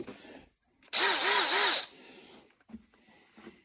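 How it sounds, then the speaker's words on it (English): A power drill drilling out bolts whirs loudly for about a second in a single steady burst, followed by quieter rattling and handling noises. "let's drill these out"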